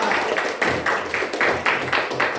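Classroom audience applauding a student presenter, a small group clapping in a steady, fairly even rhythm, close and moderately loud.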